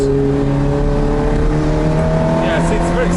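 Ferrari F430 in race mode pulling hard on a damp road, steady engine drone with shifting harmonic bands and quick gear changes, heard from inside the car, loud and continuous with a faint voice underneath.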